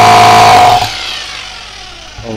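A hand-held Japanese-market electric hammer drill set to concrete drilling mode runs loud with a high motor whine for under a second, then spins down and fades, with a brief low bump near the end.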